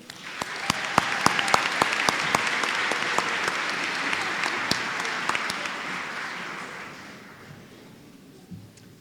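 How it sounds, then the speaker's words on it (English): Graduation ceremony audience applauding a keynote speaker: dense, steady clapping from a large crowd in a hall, holding strong for several seconds with a few sharp nearby claps on top, then gradually thinning and fading near the end. "Please give a round of applause to Mr."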